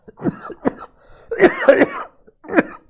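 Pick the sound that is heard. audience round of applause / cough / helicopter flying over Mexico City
cough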